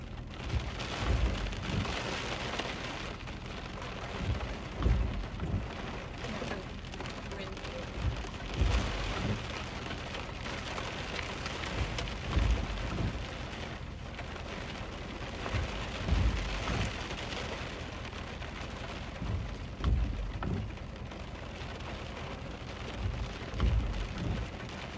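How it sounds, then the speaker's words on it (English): Steady rain falls during a tornado-producing thunderstorm, a continuous wash of drops with dull low rumbles and thumps rising and falling throughout, and no voices. "Again, just raining right now."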